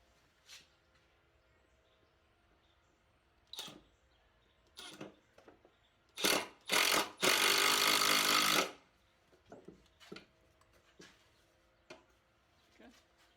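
A locking screw is driven up through the bottom of a floating shelf in a garage, with scattered knocks and handling clatter, then two short bursts and one longer whirring burst from a power driver before quieter taps.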